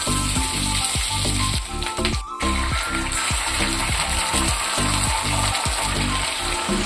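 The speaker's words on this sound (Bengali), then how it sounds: "ক্যাপসিকাম, কাঁচা লঙ্কা। অল্প ভেজে নেব।" Capsicum, onion and green chilies frying in hot oil for chili chicken, a steady loud sizzle broken by rhythmic stirring scrapes and a brief pause midway.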